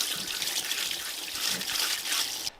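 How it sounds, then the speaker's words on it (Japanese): Small rotary engine parts, including an oil pump, counterweight and stationary gear from a Mazda RX-7 FD3S, being washed in kerosene, heard as a steady close splashing and trickling of liquid that stops abruptly near the end. "これは灯油で洗っていきます"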